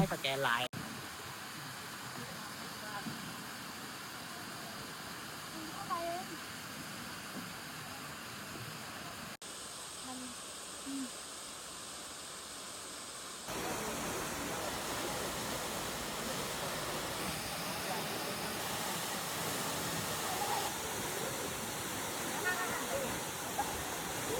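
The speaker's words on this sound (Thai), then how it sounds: "เราก็มาแวะน้ำตกนี่ค่ะ" Waterfall at Jok Kradin in Kanchanaburi, a steady broad rush of falling water that swells louder partway through and continues without a break, with faint voices now and then.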